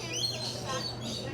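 Lorikeets chirp and tweet in a busy, close chorus inside the lorikeet forest aviary at the Aquarium of the Pacific in Long Beach, California, over a low background hum and murmuring visitors.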